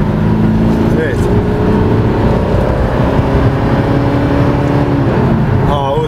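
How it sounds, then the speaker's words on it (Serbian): Engine of a Mercedes W212 with a 5G automatic gearbox in sport mode, revving loudly past 3000 rpm without upshifting, heard steadily from inside the cabin with the pitch climbing. "da sada čujete motor"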